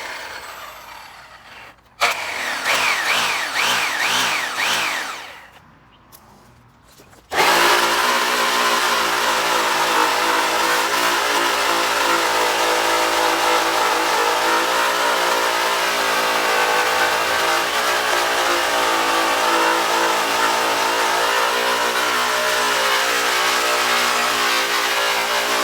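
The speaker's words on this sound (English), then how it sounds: "That was pretty quick buffing right there." A Zephyr buffing wheel polishing metal whirs loudly and steadily, with a brief drop as the motor winds down and restarts, then a long continuous high hum of the spinning wheel with no talking.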